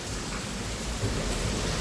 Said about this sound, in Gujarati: વરસાદ બંધ થતો નથી એકેય બાજુથી